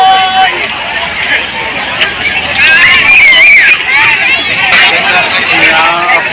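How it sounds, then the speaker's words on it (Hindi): A large crowd at India Gate during the Republic Day celebration fills the air with dense babble, overlapping voices and occasional shouts, loud and close all around. "आप देख सकते हैं बहुत ज्यादा क्राउड है, ये इंडिया गेट ही है"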